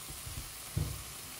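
Chopped onion frying in oil in a pan while making a Bolognese sauce, a faint, steady sizzle with a few soft stirring bumps, heard alone without talk.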